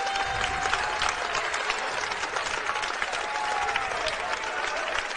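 Basketball crowd at a Midwestern State versus Cameron game applauds a senior player with continuous, even clapping that fills the arena for several seconds.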